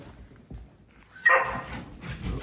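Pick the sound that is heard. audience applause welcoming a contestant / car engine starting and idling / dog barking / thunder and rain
dog barking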